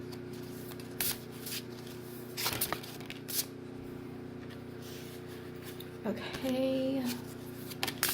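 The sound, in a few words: shuffling tarot cards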